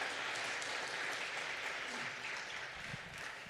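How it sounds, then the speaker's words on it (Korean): A church congregation at a Korean Presbyterian Sunday service applauding to welcome new families, a soft, even wash of many hands clapping from across the room that tapers near the end. "환영의 박수 드리겠습니다"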